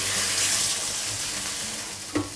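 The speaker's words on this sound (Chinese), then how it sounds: "倒点啤酒" Beer poured along the side of a hot wok while cooking a fish dish with pickled vegetables and chili sauce, heard as a steady loud pouring, sizzling rush.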